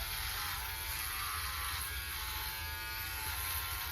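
A Philips OneBlade electric shaver runs steadily close by with a constant high-pitched buzz and a low motor hum, held unbroken for about four seconds with no talking.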